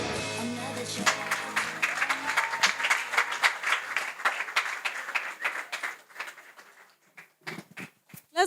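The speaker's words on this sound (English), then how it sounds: "Let's give him another round of applause" Audience applause at a junior school graduation ceremony, rising after music fades and then thinning into scattered individual claps toward the end, with talk mixed in.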